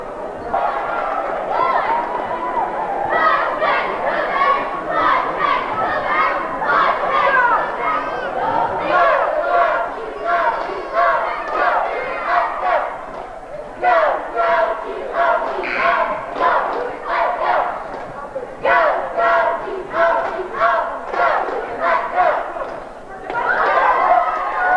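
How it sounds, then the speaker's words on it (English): A basketball game crowd roars with cheers and shouts in bursts that rise and fall, mixed with chatter, loud and close throughout without a break. "Well, the Patriots didn't cheer very long."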